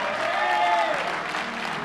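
A church congregation claps hands together during a sermon, a short burst of crowd applause with a faint tonal voice or music trace underneath.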